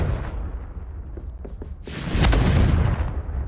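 A Confringo blasting spell in the Hogwarts Legacy game: a few soft crackles, then a loud, deep explosive burst that roars for about a second before fading.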